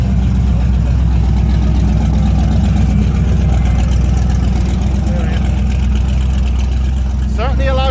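A loud Lotus sports car engine rumbles steadily at close range at a car show, a deep continuous drone with a brief higher whine near the end.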